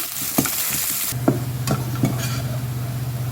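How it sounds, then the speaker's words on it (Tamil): Garlic frying in a pan until reddish-brown for curry leaf powder: a loud, steady sizzle with a strong hiss that shifts abruptly partway through, punctuated by a few soft clinks of stirring against the pan. "இந்த பொடிக்கு சுவை கொடுக்குறது இந்த பூண்டு தான் இதை நல்லா சிவக்க வறுத்துக்கலாம்"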